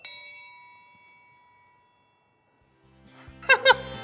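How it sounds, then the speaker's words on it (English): A triangle struck once with a little stick rings out brightly and decays slowly into near silence, followed by a child's giggling laughter near the end. "Should I play the triangle?"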